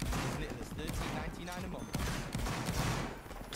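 Musket volleys crackle in the Napoleonic Wars multiplayer game, with dense overlapping gunfire bursting repeatedly over a few seconds beneath shouting voices.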